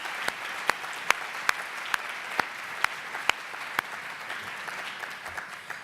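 Applause at a design effectiveness awards event, a faint wash of clapping from a distant audience with a few sharp, closer individual claps standing out at irregular intervals.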